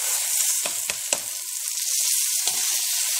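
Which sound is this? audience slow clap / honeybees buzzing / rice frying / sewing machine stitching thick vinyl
rice frying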